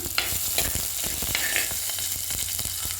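Fenugreek seeds and onions frying in hot oil for Kerala fish curry crackle and hiss densely up close, with a few sharp spoon scrapes in the brief stretch.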